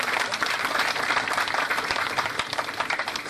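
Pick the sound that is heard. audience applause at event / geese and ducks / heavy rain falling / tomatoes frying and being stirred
audience applause at event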